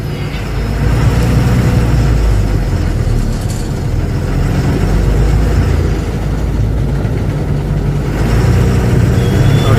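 A heavy truck engine rumbles loud and close as the truck pulls out onto the road, a deep steady low-pitched drone that holds for several seconds without speech.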